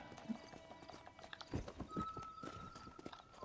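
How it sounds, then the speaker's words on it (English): Horse hooves clip-clop steadily in Red Dead Redemption, a brisk rhythm of close, moderately loud steps with a brief whinny mixed in. "this horse that keeps coming to, showing up here every time I whistle"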